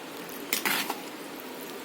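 Spoon stirring moong dal khichdi with coriander leaves in a pot, a short cluster of soft clinks and scrapes in the middle against a quiet background, no talking.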